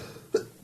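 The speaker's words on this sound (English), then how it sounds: "Cough." Two sharp, close coughs from a man, a short pause between them, loud against a quiet room.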